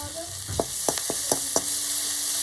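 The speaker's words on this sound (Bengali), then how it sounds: "আদা আর রসুনটাকে দিয়ে আমি খুব ভালোভাবে একটু নেড়ে নেব" Chopped garlic and ginger frying in a pan for chicken soup, a steady close sizzle broken by five sharp spoon taps and scrapes as they are stirred.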